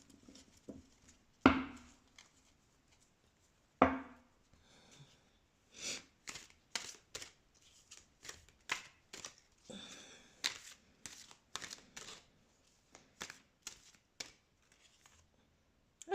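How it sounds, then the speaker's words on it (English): A deck of oracle cards being shuffled by hand, close and quiet: two sharp riffling bursts early, then a run of soft, irregular card slides and taps in quick succession, with no talk. "Let's shuffle the deck."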